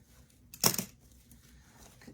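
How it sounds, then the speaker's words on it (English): Scissors cut a ribbon tail on the diagonal in one quick, close snip, a brief rasp rising out of near quiet. "I'm just going to cut this on the diagonal."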